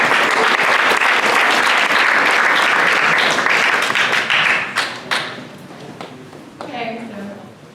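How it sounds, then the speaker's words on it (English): An audience at a STEM speaker talk breaks into loud, dense applause that holds for several seconds, then thins out into scattered claps as a voice begins to speak. "Please give them a round of applause"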